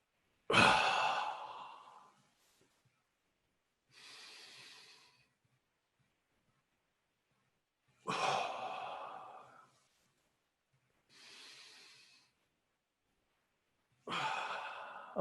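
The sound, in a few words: breathing in and squeezing during guided meditation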